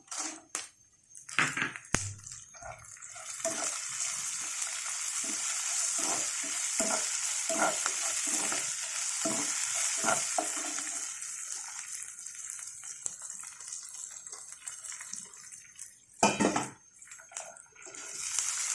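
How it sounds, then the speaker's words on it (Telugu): Red and green chillies fry in a pan for a tangy pulicinta leaf chutney, a loud continuous sizzle with scattered stirring clatters and scrapes, plus a few sharp knocks near the start and end. "ఇది ఇలా వేగుతున్నాం కానీ మిరపకాయలు, పచ్చిమిరకాయలు వేసుకున్నాం"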